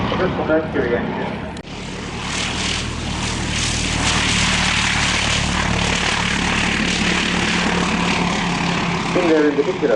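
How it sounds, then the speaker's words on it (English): A classic aircraft's Mercury propeller engine drones loudly and steadily at the Shuttleworth Collection, a continuous throbbing roar that holds level for the whole stretch, with faint voices beneath it. "Mercury engine."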